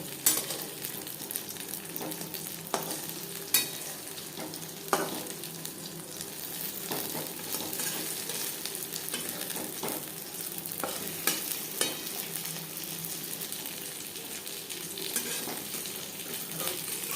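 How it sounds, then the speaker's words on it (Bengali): Oil sizzles steadily in a shallow pan as masala-coated fish fries, punctuated by occasional clinks and scrapes of a utensil against the pan. "দু তিনবার উল্টে পাল্টে ক্রিস্পি করে দিয়ে নেব"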